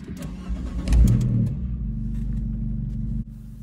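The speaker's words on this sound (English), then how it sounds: "start the car and we'll go for a drive" A car engine cranks and catches about a second in, briefly rising before settling into a steady low idle, heard from inside the car during a driving lesson in Enfield.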